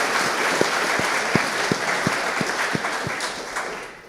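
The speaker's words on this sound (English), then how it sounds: "let's clap for the Equality Act" An audience applauds for the Equality Act, steady crowd clapping with a few sharper individual claps standing out, easing off slightly toward the end.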